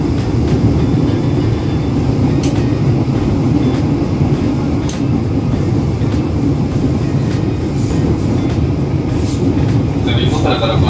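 Ride aboard a Jabodetabek KRL commuter line train, with a loud, steady low rumble of wheels and carriage running throughout, occasional sharp clicks and squeals from the track, and no clear talk.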